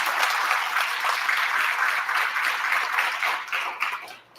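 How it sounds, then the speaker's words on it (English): Audience applause at a Goodwill I-CAN graduation ceremony, a sustained, even wash of many hands clapping that fades out at the end. "I think that's worth a round of applause"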